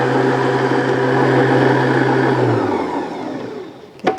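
An electric hand mixer beats butter-based green tea cookie dough, a loud steady motor whir that holds level, then slows and winds down near the end before a couple of brief knocks against the bowl.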